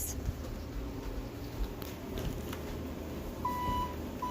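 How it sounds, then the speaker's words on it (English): A Thyssenkrupp elevator going down gives a single brief chime near the end, clear but short above a faint hum of the cab and soft background rustling. "Every time when you press the button, the bell is going to ring."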